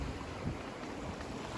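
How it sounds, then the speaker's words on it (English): Strong wind gusts buffet a sailboat at sea in 30-plus-knot conditions with big waves, a steady roaring rush of wind noise filling the whole clip with no voices. "Get some wind gust,"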